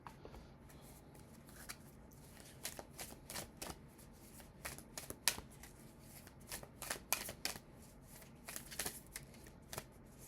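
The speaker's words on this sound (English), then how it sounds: "these are the Healing Spirit cards by Gordon Smith" Healing Spirit oracle cards by Gordon Smith are shuffled by hand, a close series of soft riffling flutters and papery slaps in irregular bursts, quiet and without talk.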